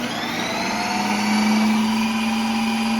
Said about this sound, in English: I mean, it's a blender.